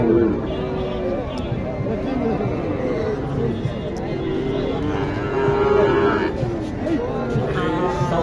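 Cattle moo repeatedly at a cattle market, several low drawn-out calls, over a busy background of crowd chatter and people talking nearby.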